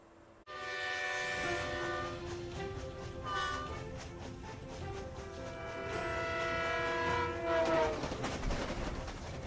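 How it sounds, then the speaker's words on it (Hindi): A high-speed train on its trial run over the new vertical-lift Pamban sea bridge at Rameswaram rumbles steadily past, its horn sounding clearly above the rail noise throughout. "रामेश्वरम में बनाए गए नए पाम्बन ब्रिज पर हाई स्पीड ट्रेन के सफल ट्रायल रन की ये तस्वीरें हैं"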